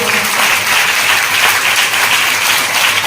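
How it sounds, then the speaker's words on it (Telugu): A church congregation of women clapping together in sustained, steady applause throughout, loud and close, filling the space with dense hand claps and no clear speech. "చప్పట్లు కొట్టండి ఆడవాళ్ళు."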